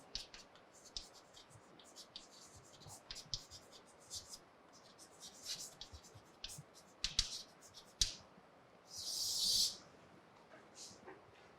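Chalk or marker strokes on a board in a lecture hall give short, scattered scratches and taps at irregular intervals, faint and nearby, followed by a longer scraping stroke near the end.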